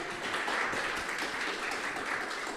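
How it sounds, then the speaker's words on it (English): Applause at a startup accelerator demo day fills a room after a pitch, steady and fairly soft from a seated audience, with a faint voice underneath. "Congratulations and applause to Luca."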